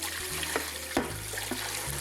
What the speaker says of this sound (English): Then I'm going to run some cold water over them.